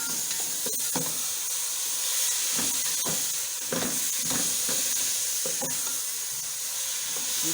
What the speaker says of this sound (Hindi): इसको मैं अच्छी तरह से भूनूंगी कीमे को